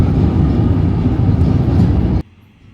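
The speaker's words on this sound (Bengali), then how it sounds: "অনেক দিন পর এইভাবে আমি ট্রেনে জার্নি করে যাচ্ছি" A passenger train rumbles along the track, a loud, dense, continuous low roar with faint rhythmic rattling that cuts off sharply near the end, leaving quieter background noise.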